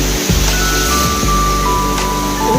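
Water at Zero Point Waterfall rushes in a loud, constant, dense roar that fills the whole clip, with faint steady tones and no clear talking.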